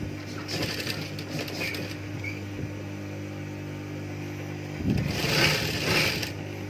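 Sewing machine running steadily while stitching a Japanese-style zipper onto stretch fabric, a continuous close mechanical hum that swells louder near the end.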